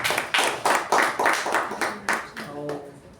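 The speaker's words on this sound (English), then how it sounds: "Give her a big round of applause." A small Toastmasters meeting audience claps in a short burst of distinct, rhythmic hand claps that thin out and fade toward the end, with some voices underneath.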